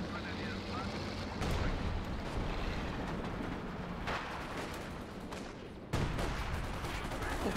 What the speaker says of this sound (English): the Priest is firing yet again